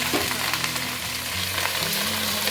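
Ginger, garlic and curry leaves sizzle and fry in hot oil with a dense, continuous crackle, joined by light stirring scrapes and a faint low hum throughout.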